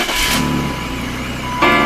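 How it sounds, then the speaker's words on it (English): A BMW 5 Series engine cranks and fires up close by, settling into a steady idle with a brief rise in level near the end. "Turn the car on."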